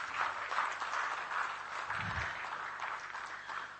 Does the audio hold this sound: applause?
yes